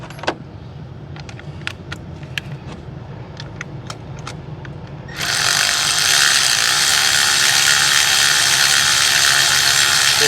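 Hand ratchet working on a 2018 Duramax L5P diesel engine, a handful of sharp, quick clicks at first, then masked by a loud steady broadband hiss that fills the second half.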